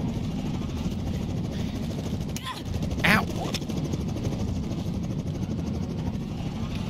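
A helicopter in the VR game Bonelab thrums with a steady, close rotor and engine drone throughout. A brief clatter cuts in partway, and a person talks over the noise at moments.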